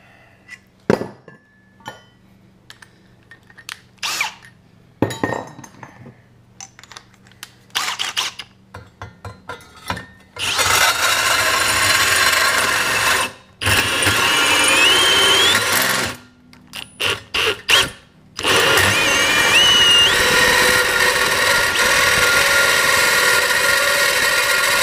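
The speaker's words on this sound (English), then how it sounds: "then we'll let the hole saw do its thing" A hole saw with a carbide pilot bit cuts through stainless steel, a loud steady grinding drone running in long stretches after sparse clinks and handling noises at the start, with brief pauses between bursts.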